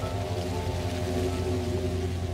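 Steady rain falls in the video game Pathologic Classic HD, a continuous even hiss with a low droning undertone, no voices over it.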